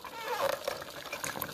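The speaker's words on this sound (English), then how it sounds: "towards the end of the brew process, it gets a little louder" A Walmart Mainstays 5-cup drip coffee maker with a removable filter basket gurgles and bubbles near the end of its brew cycle, a soft, close, irregular sputter of hot water.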